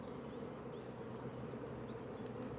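Honeybees swarm around a beehive nucleus with a continuous, even, close buzz that holds steady throughout and is not interrupted by talk.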